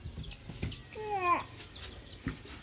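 Domestic chickens at home clucking softly nearby, with a short rising squawk in the middle and a few scattered quiet calls against light background noise.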